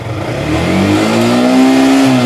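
Yamaha R15M sport motorcycle engine rising as the throttle is twisted in neutral, a loud, close rev climbing steadily in pitch and holding high, with no talking.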